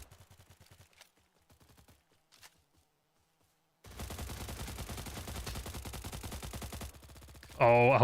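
Machine gun fire in the video game Stalcraft comes as a dense rapid burst of about three seconds, fairly loud, after quieter spoken commentary, and ends with a sharp louder crack.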